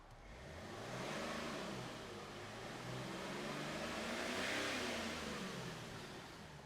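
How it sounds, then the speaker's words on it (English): A BMW car engine revs up and holds at high speed, then eases and rises again in a second rev. The car has been shutting down and not starting. The engine sound is steady, close and fairly loud, with no talking. "Rev the engine."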